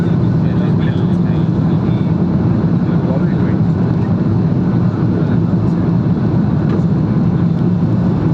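Steady, loud cabin roar of an Akasa Boeing 737 MAX 8 climbing out after an early-morning takeoff from Bengaluru, a dense continuous engine and airflow drone holding level throughout.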